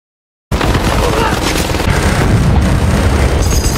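A gunship's machine gun fire in a war film comes as a loud, dense, unbroken barrage of rapid shots and booming impacts that starts abruptly after a short silence and keeps going to the end.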